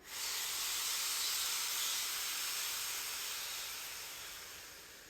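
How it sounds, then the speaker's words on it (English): A slow breath drawn in through cupped hands, heard up close as a steady, airy hiss that swells quickly, holds, then gently tapers over about five seconds, with no talking. "And then we breathe in."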